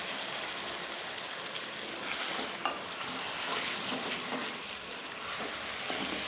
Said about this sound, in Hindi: तकरीबन 10 मिनट तक हम इसको हल्की आंच पे मज़ीद पकाएंगे।